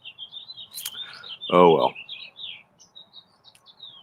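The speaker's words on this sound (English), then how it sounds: "Good birds this morning." Birds chirp and tweet steadily on a quiet morning, bright calls repeating throughout, with a person briefly saying a few words partway through.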